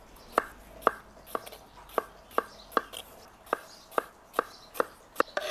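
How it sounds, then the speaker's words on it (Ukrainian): A knife chops a bell pepper into large pieces on a cutting board with about a dozen crisp, evenly spaced knocks, heard close and fairly quiet. "Тепер нарізаємо болгарський перець. Ось такими великими шматками нарізаємо."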